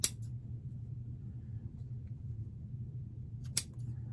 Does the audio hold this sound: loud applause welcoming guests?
no